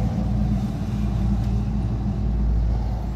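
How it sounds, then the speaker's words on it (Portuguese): The original six-cylinder gasoline engine of a 1973 Chevrolet C10 pickup runs close by, a steady, loud, low rumble that never changes. No one talks. "Ó, aí o motorzão 6 cilindros."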